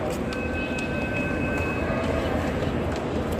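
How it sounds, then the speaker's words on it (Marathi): A Pune Metro train waits inside a busy carriage before departing, with a loud, steady rumble and hum, a thin high electrical whine, and voices murmuring beneath it. "आता मेट्रो जाणार आहे"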